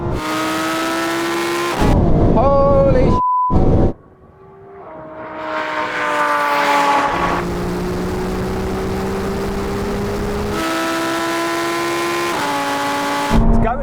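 A Ferrari 296, McLaren 750S, Lamborghini Huracan Performante and Porsche 911 Turbo drag race, with loud, close engines roaring and revving through rising pitches and gear changes, briefly dropping off before surging again into sustained full-throttle howls.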